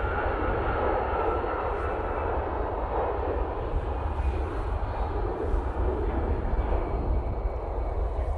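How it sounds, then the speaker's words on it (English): KLM airliner touching down at Manchester Airport, a steady broad roar of engines and rushing air heard from a distance, with a voice talking faintly over it. "nice level wings on touchdown there from the KLM"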